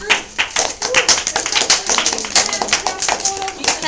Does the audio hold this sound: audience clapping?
yes